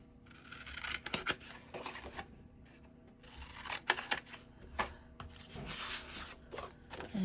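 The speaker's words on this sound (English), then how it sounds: "Let's go ahead and cut off those corners." Scissors snip off the corners of paper for a book-in-a-box craft project, several close, crisp cuts in irregular bursts with light paper rustling in a quiet room, no talking.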